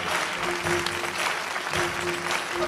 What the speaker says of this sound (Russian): Давайте встретим его аплодисментами.